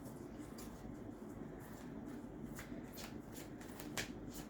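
Tarot cards shuffled and drawn by hand, a steady papery riffling and flicking that runs throughout at moderate level, with a few sharper card snaps near the end.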